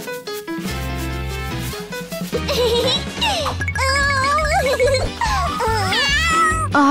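A cartoon kitten meows repeatedly over bright background music, its rising and falling cries standing out near and clear with no talking.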